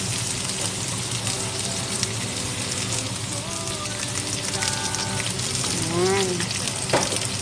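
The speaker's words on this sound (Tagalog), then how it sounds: "Lagyan natin ngayon ng konting mantika" Oil sizzles and fries in a pan as a steady, loud, close hiss that runs throughout, with a brief voice speaking over it near the end.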